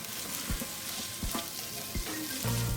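Chopped onion and garlic sizzling in butter in a Dutch oven, a continuous close frying hiss with occasional spoon knocks and scrapes against the pot, no voices.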